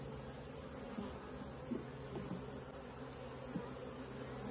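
Steady, faint buzzing of many honeybees around an open top bar hive, a continuous hum with occasional closer passes of individual bees and no talk.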